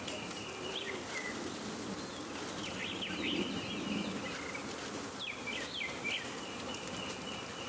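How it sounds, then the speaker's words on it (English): Russian honey bees buzz in a dense, continuous hum during installation into a hive, faint and close, with a few bird chirps over the top. "Now, there's not many bees left."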